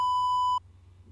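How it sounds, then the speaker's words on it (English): A single sustained continuity beep sounds from a multimeter probing a toroidal inductor. It is loud and clear, lasts about half a second, and cuts off abruptly into a faint background hum with no voices. "And you should hear a continuity sound like this,"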